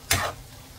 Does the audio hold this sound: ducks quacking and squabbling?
no